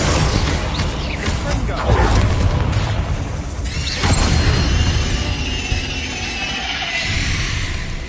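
Confringo spell blasts in Hogwarts Legacy burst out as loud booming explosions with shattering debris. Several overlapping blasts rumble in a dense, continuous stretch of game noise.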